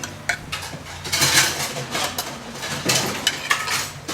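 Cutlery scraping and clinking on a plate while Khanom Jeen rice noodles are cut into bite-sized pieces, a few close, sharp taps and scrapes over quiet background.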